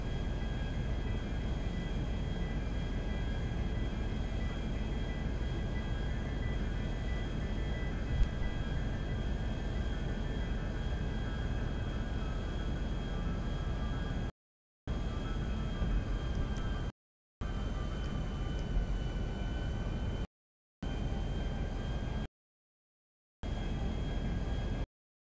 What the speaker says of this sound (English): Landing at the airport soon.